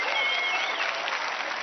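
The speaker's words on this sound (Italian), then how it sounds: "chiedo un applauso caloroso da parte del pubblico per i comici che si sono esibiti qui questa" Studio audience applauding comedians on an Italian television comedy contest, a dense, steady wash of clapping that stays loud and even throughout, with no voices over it.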